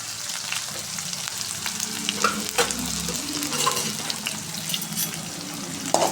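Two medium onions with green chillies sizzle and crackle steadily in hot oil in a pan, a close, continuous frying hiss broken by occasional stirring scrapes, with no voices.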